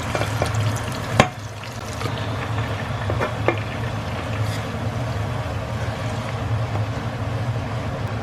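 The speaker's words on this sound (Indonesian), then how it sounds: "Jadi ini semua kita halusin, lalu ntar kita tumis dengan tauconya." Ground chili, shallot and garlic paste stir-fried with tauco (fermented soybean paste) in a pan: a steady, moderately loud sizzle and frying hiss with a few sharp utensil clicks, no talking.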